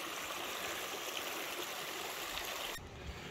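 Blackden Brook, a moorland stream in the Peak District, rushes and splashes steadily in a close, continuous wash of flowing water, with no voices present; the sound softens slightly near the end.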